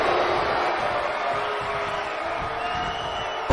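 A wrestling arena crowd in WWE 2K19 roars in a sustained wash of cheering, loud and steady, with a sharp swell at the very end.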